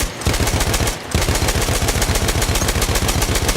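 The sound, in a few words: Perino model 1908 light machine gun firing in Battlefield 1 video game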